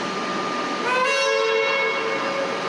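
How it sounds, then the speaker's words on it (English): A train at platform 12 of Southern Cross station in Melbourne gives off a rising electric whine with tonal hum over a steady platform rumble, close and brief. "Sorry about the train on platform 12."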